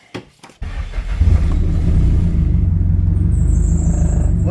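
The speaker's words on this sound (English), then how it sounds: "We're gonna start the car." A car fitted with a Haltech dash, damaged in a crash, cranks briefly after a few clicks and then fires into a loud, steady idle rumble close by, with no one talking.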